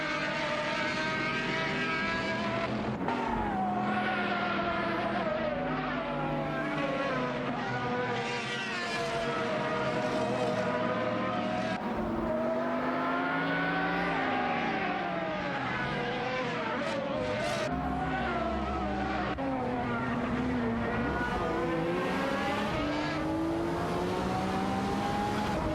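Race cars in an AI racing video game whine past in a continuous engine roar, pitch sweeping up and down through gear changes as several cars jostle close together.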